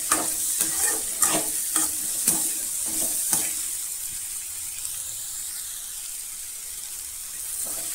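Chopped tomato and radish sauté in a pan, with a run of distinct utensil scrapes and clacks over the first few seconds, then a steady, moderately loud sizzle and hiss carrying on alone.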